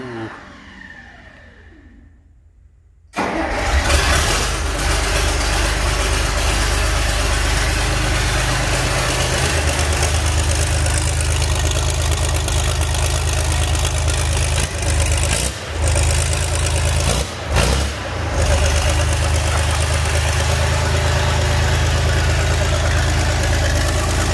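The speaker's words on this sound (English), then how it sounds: "Epic cold start time with the no muffler or nothing" A John Deere 4020 tractor with no muffler cold-starts after a few seconds of quiet and then settles into a loud, steady, raw idle that runs continuously, with a couple of brief dips.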